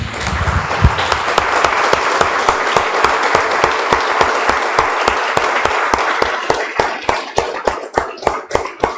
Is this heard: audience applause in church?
yes